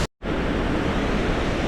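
A mountain stream and waterfall on a hiking trail roar steadily and loudly after a brief instant of silence at the start, a constant wash of rushing water with no talking.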